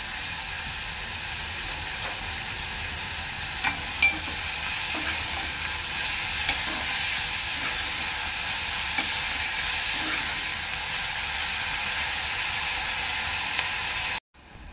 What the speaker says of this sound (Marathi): कांदा आहे ना चांगला लाल होईपर्यंत शिजवून घ्यायचं आहे।